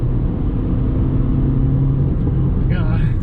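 Newly bought racecar driving along, a steady low engine drone and road rumble throughout with a faint tonal whine, heard from inside the car; a voice briefly chirps near the end.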